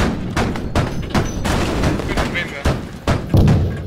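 Gunshots in the shooter video game Squad crack out in a quick irregular series of sharp, punchy reports over ongoing battle noise.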